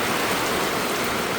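Rainwater from a leak pours and splashes in a constant, loud, dense hiss that fills the whole moment without a break.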